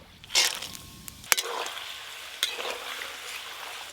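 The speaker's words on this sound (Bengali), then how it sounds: "প্রথমে এই যে বাদামগুলো ভেজে নেব।" Peanuts fry in plenty of oil in a kadai before making fried shredded potato, heard as a soft sizzle with a few sharp clinks and stirring scrapes, moderately close and without talk.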